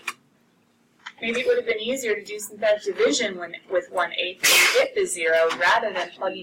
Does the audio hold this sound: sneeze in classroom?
yes